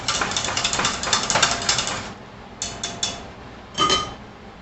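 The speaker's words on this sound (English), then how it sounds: "Let's stir this down a minute" Metal spoon scraping and clinking against a crockpot pot of pork chops, potatoes and cabbage at a boil, a quick run of close, bright stirring scrapes followed by a few separate knocks and one louder clatter.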